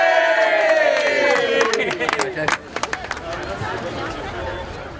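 A crowd gathered at a rowing event lets out a big, loud cheer of whoops and yells that tails off into scattered shouts and claps.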